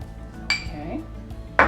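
A metal omelet maker pan is opened with a sharp clank, a few soft scrapes and then a second bright metallic clink, close and clear, with no talking.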